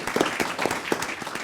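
Brief applause in a drug court courtroom, a small group clapping in a steady patter for a moment, close and moderately loud.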